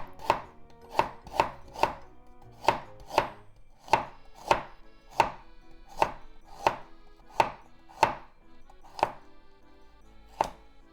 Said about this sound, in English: Let's just mince it. So into slices first.